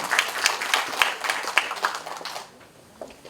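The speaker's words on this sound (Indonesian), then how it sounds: "Tepuk tangan." A small audience at an official reception with Ridwan Kamil claps in a brisk, uneven burst that tapers off and fades to near silence after about two and a half seconds.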